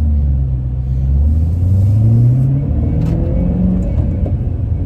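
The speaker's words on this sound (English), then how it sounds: "So let's take it down the road and see if it shifts better." A Ford Mustang with a newly replaced clutch master cylinder pulls away down the road, its engine rising in pitch as it accelerates and then dropping as the gears are shifted, loud and close from inside the car with no talk.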